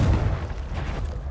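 A booming blast from the Confringo explosive spell in the Hogwarts Legacy video game, cast inside a cave maze, rolls out as a loud, sustained low rumble across the whole moment.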